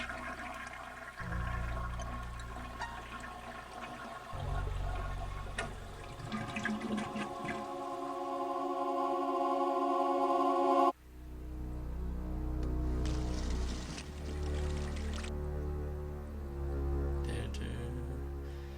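A shower runs in the video game Phantasmagoria, with steady rushing water, a shift partway through to a different spray, and faint background music under it.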